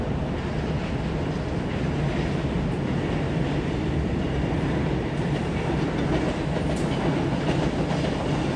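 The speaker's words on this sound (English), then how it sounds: "So today we are riding on Japan's upside down trains with no tracks." Shonan Monorail suspended train in Japan riding along, a steady loud interior rumble and hum with faint clicks, continuous throughout.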